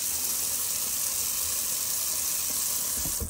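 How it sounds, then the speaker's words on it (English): Cold tap water runs steadily from a faucet for a post-shave rinse on a cool New Jersey night, a constant close splashing rush that cuts off abruptly at the end. "I do like that cold water rinse after a shave."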